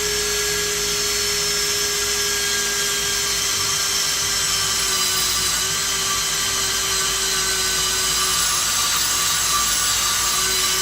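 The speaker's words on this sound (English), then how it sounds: "We're going to take our long drill bit here." A long drill bit bores steadily through a tight space while working on a Dodge Durango SRT, a continuous high whine that stays close and loud for the whole stretch with no talk.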